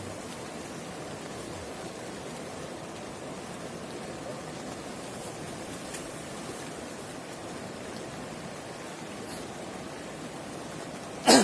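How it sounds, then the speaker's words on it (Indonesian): Steady rain falls outside a tent pitched near a river, a constant soft hiss of drops with running water blended in, fairly faint, ending with a brief louder knock. "Di luar hujan."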